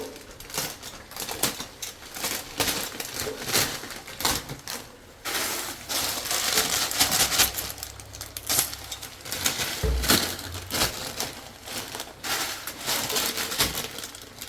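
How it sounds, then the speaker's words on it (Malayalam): A plastic packet of vermicelli is torn open and handled, giving a close, continuous crinkling and rustling with sharp crackles throughout, no talking. "സേമിയ പാക്കറ്റ് പൊട്ടിച്ച് അടുത്ത് വെച്ചാൽ നമുക്ക് വെള്ളം തിളച്ചതും കൊട്ടാൻ എളുപ്പമായിരിക്കും"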